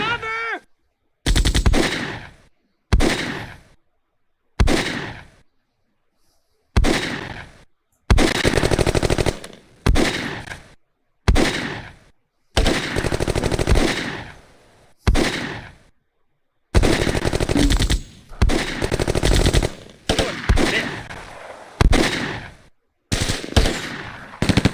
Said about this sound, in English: They're like shooting through like windows.